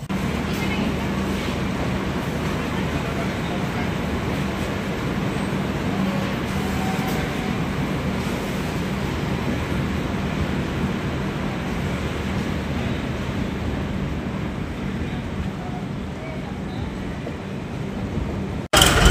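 Inside an AC three-tier coach of the Brahmaputra Mail express, train 15657, just pulling out of Dhupguri, a steady rumbling roll and rattling drone continue without a break.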